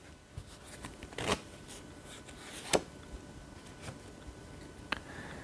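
Tarot cards shuffled and drawn at close range, soft riffling and papery slides broken by a few sharp card snaps, quiet overall with no voices.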